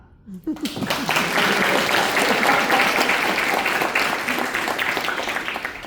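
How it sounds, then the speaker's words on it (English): At a talk for student-athletes, an audience bursts into sustained applause after a brief spoken moment, steady clapping filling the room for several seconds before gradually easing. "that's a good place to clap"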